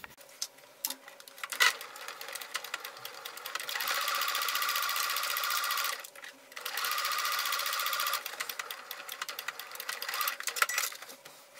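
Sewing machine stitching a seam on fabric for a small handbag pouch, running in two steady whirring bursts of a few seconds each with a short stop between, preceded and followed by scattered handling clicks, close and loud.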